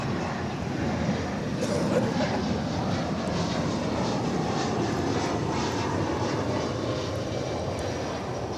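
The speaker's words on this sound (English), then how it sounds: "behind it will be another American flight from Mexico for Monterrey, an Airbus A319" Airbus A319 on an American flight from Mexico at DFW Airport, a steady broadband engine roar holding loud and constant throughout, with no talk over it.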